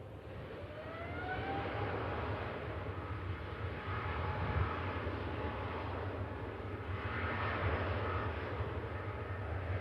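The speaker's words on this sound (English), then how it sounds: "Singapore, Airbus A350, now rolling" A Singapore Airlines Airbus A350 rolls along the runway at Manchester Airport, a broad sustained engine roar that swells and eases in waves, heard from a distance with no talk.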